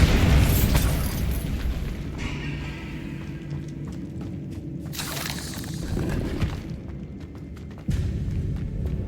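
Bombarda blasting spell detonating in Hogwarts Legacy, a loud boom at the start that rumbles and decays, followed by lower crackling debris and a second, smaller burst near the end.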